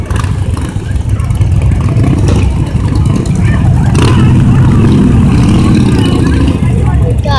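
Motorbikes ride past a car show one after another, their loud engines rumbling and revving close by for several seconds over faint crowd noise.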